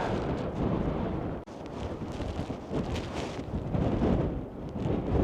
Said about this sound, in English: God, a wind.